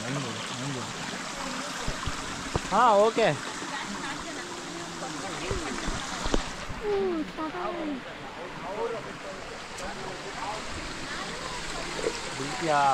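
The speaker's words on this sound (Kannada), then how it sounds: "ನೀರು ಬೀಳ್ತಾ ಇರೋದನ್ನ ಹಿಡ್ಕೊ" Steady rushing of a waterfall on a trek in Karnataka fills the clip while people talk over it and exchange a few brief words.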